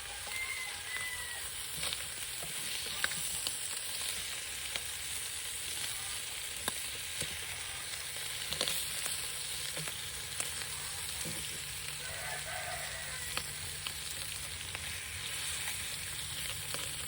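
Bacon fries in a thin Trangia 25 camping pan, a steady close sizzle and crackle with occasional scrapes and stirring clicks, and no talk.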